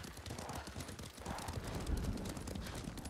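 Rapid clip-clop of galloping hooves from a horse in Ghost of Tsushima runs steadily throughout, fairly close, with a low rumble underneath and no talking.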